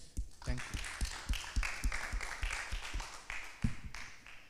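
An auditorium audience at a research expo applauds, with uneven claps rising and falling over several seconds at moderate distance.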